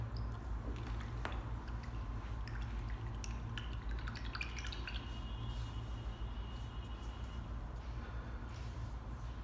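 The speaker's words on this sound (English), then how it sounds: "Okay, wash your brush out." A paintbrush used for acrylic painting is swished and rinsed in a water cup, with soft, faint drips and wet squishes, a few brief clinks, and low background hum.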